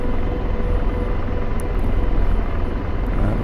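AH-64 Apache helicopter in the DCS flight simulator game, hovering near a runway: a steady, loud rotor drone with continuous low thrumming and turbine whine, no voices.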